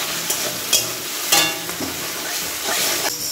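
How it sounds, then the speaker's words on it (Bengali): Crumbled fish fries in hot oil in a home kitchen, a loud steady sizzle with a few sharp spatula scrapes and knocks as it is stirred close by. "তেলের মধ্যে দিয়ে এটাকে ভালো করে ভেজে ভেজে নেব।"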